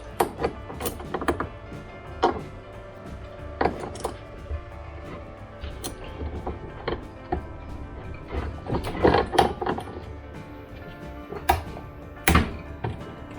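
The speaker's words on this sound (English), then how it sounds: "Let's see if we can get these with the multi-grips." Multi-grip pliers working at bolts on a Land Rover D3/D4 during rear A/C evaporator replacement, an irregular run of close metallic clicks, taps and ratcheting clinks with pauses between.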